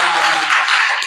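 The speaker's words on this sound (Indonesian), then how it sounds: "Oke, tepuk tangan dulu untuk kelompok 5." Brief burst of classroom applause for a student group, a dense wash of many hands clapping together, loud and close, lasting about a second.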